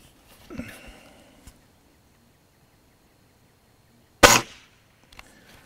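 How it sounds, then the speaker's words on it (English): An air rifle fires a pellet, a single sharp, loud crack followed by a short decay, with a softer muffled sound and a small click earlier and a faint tap after, in an otherwise quiet setting. "it's becoming clear which pellet is shooting better"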